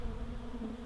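Honey bees swarm around a hive built inside an old fridge, a steady close drone of buzzing wings that holds level throughout the short moment.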